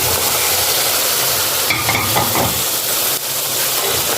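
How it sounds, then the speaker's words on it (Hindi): Mutton dropped into hot masala in a pan, sizzling loudly and steadily while a utensil stirs and scrapes through it, close and continuous. "अब हम इस पे मटन डालेंगे"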